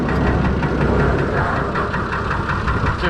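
A Fordson Major tractor with a Perkins straight-six diesel engine runs close by, a loud, rough, low rumble with a steady knocking pulse and no voices.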